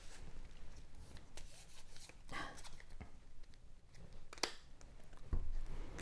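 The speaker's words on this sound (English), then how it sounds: "There's not that many cards to shuffle" Soft rubbing and riffling of a small deck of cards being shuffled during a board game, quiet and close, with brief scattered snaps and light talk nearby.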